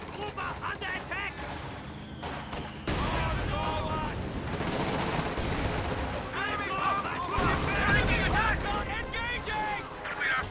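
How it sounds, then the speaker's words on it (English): An MG-34 machine gun firing in a World War II strategy video game, rattling bursts mixed with explosions and battle noise under overlapping in-game voices. "MG-34 firing on a bunch of stuff."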